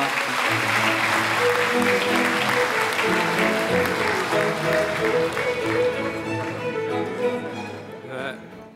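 Loud applause greets a former head of the Ministry of Government Legislation as he comes up to give a congratulatory address at a launch ceremony and rally, with sustained clapping layered over music that fades toward the end.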